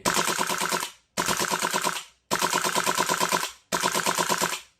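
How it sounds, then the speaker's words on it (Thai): A GoldenEagle M4 gas blowback airsoft rifle dry firing on full auto: four rapid mechanical bursts, each about a second long, with short silences between them, loud and close. "เดี๋ยวจะลองยิงยิงเปล่าดู"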